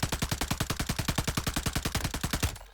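Rapid automatic gunfire in Call of Duty Warzone, a steady burst of about ten shots per second lasting nearly three seconds, loud and close, cutting off abruptly at the end.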